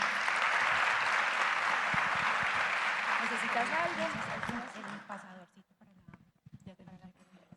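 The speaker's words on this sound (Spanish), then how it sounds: "Recibámosla con un aplauso." An audience applauding to welcome a speaker onto a conference stage, loud dense clapping from a large crowd that tapers off after about five seconds into scattered claps and room noise.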